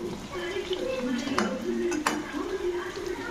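Food frying on a medium flame in a pan while being stirred gently, giving a steady low sizzle with light scraping and a couple of sharp utensil clinks against the pan, close and continuous.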